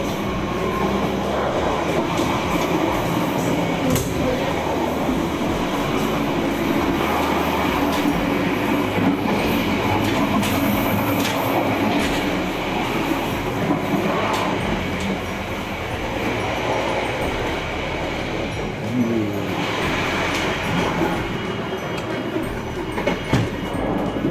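Inside a moving train carriage on a journey to Semarang, a loud, continuous rumble of wheels and rails fills the space, with rhythmic clatter and occasional higher squeals over the steady roar.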